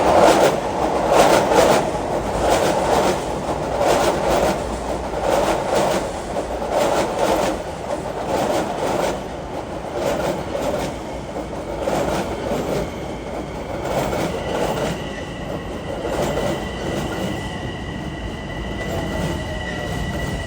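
Long Island Rail Road train passing near Massapequa, a loud continuous rumble of wheels on rail with rhythmic clicking and a faint squeal later, sustained throughout.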